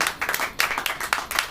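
A church congregation claps along in a quick, uneven burst of hand claps, moderately loud and slightly distant, with no speech.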